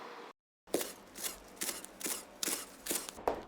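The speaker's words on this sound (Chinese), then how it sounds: "哈楼叶切絲剁碎" A knife chops wild hala leaves on a board in about eight quick, evenly spaced strokes, each a crisp close knock, after a brief moment of silence.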